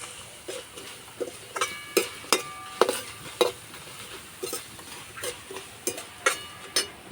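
Raw peanut pakoras fry over a wood-fired clay stove, with a soft sizzle beneath repeated sharp clinks and scrapes of a utensil stirring in the pan, close and fairly quiet.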